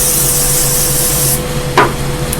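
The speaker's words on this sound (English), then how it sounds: "So the next part is to spray the front." A spray bottle mists the front of a wig to soak it, giving a steady, close hiss that runs for over a second and then cuts off, followed by a brief soft rustle.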